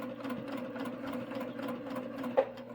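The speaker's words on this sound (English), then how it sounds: "And then I start at the corner up here, and I sew straight across to the other corner." A sewing machine stitches straight across fabric for flange binding, a steady, fairly quiet mechanical hum with a brief louder knock near the end and no voices.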